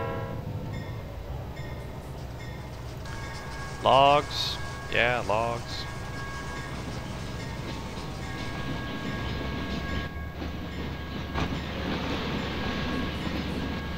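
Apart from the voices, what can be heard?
train running in Trainz video game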